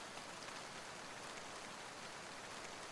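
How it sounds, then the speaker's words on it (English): Heavy rain pours down steadily during a thunderstorm, a dense, continuous hiss with no pauses and no voices. "The rain's still pouring, and that thunder's really something, huh?"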